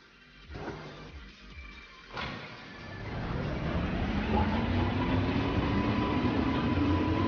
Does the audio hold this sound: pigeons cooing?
no